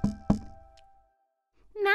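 Two firm knocks on a door in a children's animated story, close and clear, followed by a pause and then a voice starting to speak.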